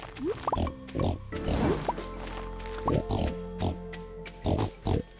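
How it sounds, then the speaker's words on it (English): Farm pigs in Stardew Valley grunt and oink in short repeated bursts, several close calls spaced across the moment, alongside light game chimes and a brief voice. "Good morning, pigs."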